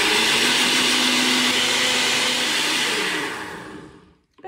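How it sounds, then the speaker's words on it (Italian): A kitchen blender whirs loudly and steadily as it purées banana, egg and soy drink, then winds down and stops near the end. "e frullo il tutto"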